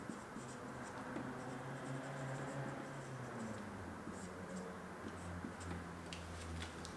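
A pen writes out a formula with soft, continuous scratching and light ticking strokes, quiet against a low background hum.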